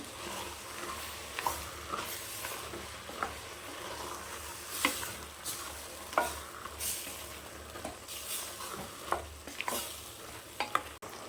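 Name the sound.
mushroom mixture boiling in pot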